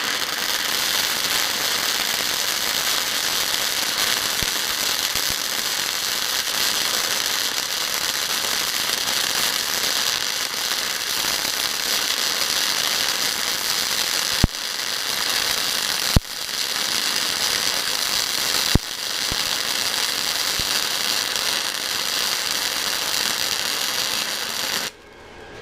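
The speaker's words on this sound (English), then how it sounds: "get it nice and ready to go, and then we'll start welding" A Titanium Easy-Flux 125 flux-core welder runs a continuous crackling, sizzling arc for about twenty-five seconds, steady and close, with a few brief pops and breaks before it stops at the end.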